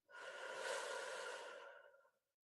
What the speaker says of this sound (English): Now inhale and exhale.